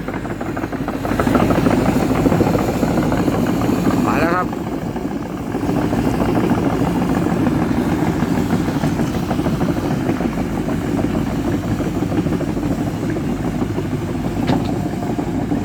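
A low Sany NY215C excavator engine idles steadily with a constant rumble, fairly loud and unbroken, with a faint higher squeal now and then.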